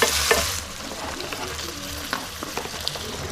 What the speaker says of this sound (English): As the onions continue to cook